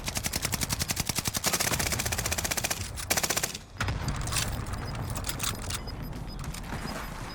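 Rapid automatic gunfire in the Warzone video game: a fast, evenly spaced burst of shots for about three seconds, a brief gap, then scattered, muffled shots and mechanical rattles at lower intensity.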